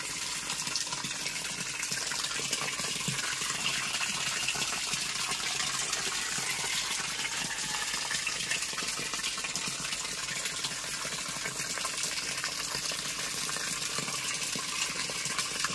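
Water gushes steadily into a catfish tank holding over 1,500 fish with white hiding pipes, a continuous broad rushing fill that runs unbroken and fairly loud throughout.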